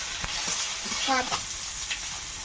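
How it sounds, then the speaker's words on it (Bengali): Dried red chili, bay leaf and panch phoron spluttering in hot oil poured over fish, a steady close sizzle broken by a few sharp crackles and pops. "তেল দিছি শুকনো লঙ্কাটা তেজপাতা একটু পাঁচ ফোড়ন"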